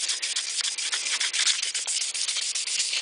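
Stainless steel trim is polished with 600-grit abrasive, producing a bright, hissy rubbing scrape in quick repeated strokes, steady and close with no voices.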